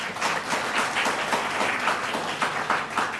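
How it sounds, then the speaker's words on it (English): A university audience claps for the Vice Chancellor during a speech at Aligarh Muslim University, producing a steady, fairly loud wash of many hands throughout. "Let's give him a big round of applause."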